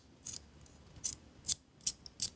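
A Compoform Clickbar slider fidget toy slides back and forth, making five short, soft scraping clicks in an uneven rhythm, close and quiet, with no voices.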